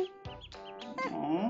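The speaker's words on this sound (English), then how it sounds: "It's ducks." Yellow ducklings peep in a handful of short, high, wavering calls, close by and clear, with no talking during them.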